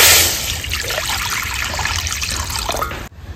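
Water splashing and trickling into a freshly washed kadai on the stove, a close, bright pour that tapers off after about three seconds.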